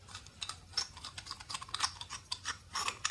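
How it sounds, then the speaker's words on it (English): Scissor blades grip and twist the threaded aluminium heatsink of a dual-18650 zoomable LED torch, giving a rapid run of small scraping clicks and ticks close to the microphone, irregular but steady over a few seconds. "let's unscrew it using a wrong tool, like scissors, which fit into those holes, and it screws easily"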